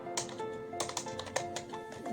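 Rapid, uneven clicks of a computer keyboard as a file name is typed while saving a Microsoft Word document, close and steady over a faint hum.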